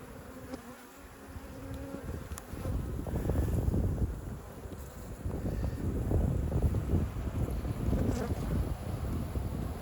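An open hive of honeybees, a half-Italian, half-local mix, hums with a steady, dense buzz during an inspection, some wind noise brushing the microphone and a faint click or two near the start.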